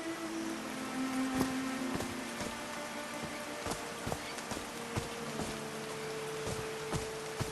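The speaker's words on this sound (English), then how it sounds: "These drops of rain are so refreshing." Rain falling in the game Call of the Sea, a soft, faint patter of scattered drops over a steady background hum with sustained musical tones.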